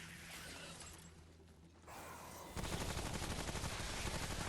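A rapid-firing weapon in Remnant: From the Ashes rattles off a fast, continuous burst of shots that grows louder and denser partway through, with no talking.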